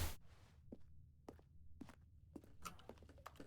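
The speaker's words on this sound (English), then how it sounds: "Like footstep noises." Footsteps of the player character in The Stanley Parable video game, a series of soft, irregular thumps spaced through a quiet, dim room tone, faint and fairly close, with no talk over them.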